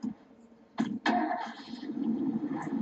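A car engine in the zombie survival game State of Decay cranks with two sharp starter bursts, then catches and settles into a steady mid-pitched idle, close and clear, with no talking.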